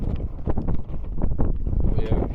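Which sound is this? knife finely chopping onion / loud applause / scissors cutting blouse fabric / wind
wind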